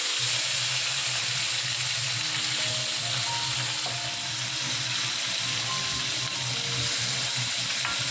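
Four pieces of fish fry in a pan, a steady broadband sizzle running throughout with light clatter and no talk.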